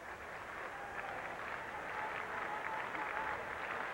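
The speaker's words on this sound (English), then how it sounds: "Crowd begins the rhythmic applause at Fenway" Crowd applause at a minor-league baseball game at Fenway, Hudson Valley Renegades against Lowell, rising into a steady, broad wash of clapping from a distant stadium audience, with no voices above it.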